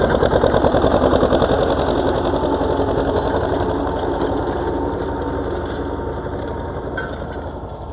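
A T-25 tractor engine runs steadily while pulling a disc harrow across a field, a loud, close, continuous rattling drone with a fast, even pulse that stays constant throughout, no voices.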